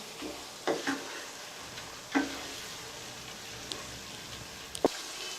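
Moong dal frying in a pan with a soft, steady sizzle, broken by a few sharp clinks and scrapes of a spoon stirring, heard close and without talk.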